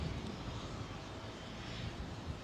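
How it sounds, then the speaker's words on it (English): A heavy Singapore Airlines Airbus A380 departing London Heathrow on runway 09R, passing overhead as a steady, broad jet roar that holds at an even level throughout. "Singapore Airlines A380. Come on, girl, run it long, run it long."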